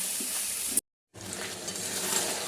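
Chicken pieces frying in a pan, a continuous close sizzle with stirring, briefly cut to silence before the hiss resumes.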